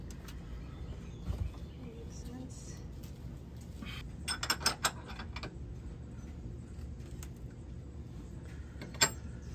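Metal tools clink and scrape while a gas tank bolt is worked loose underneath a van, faint scattered knocks with a few sharper metallic taps over a quiet background.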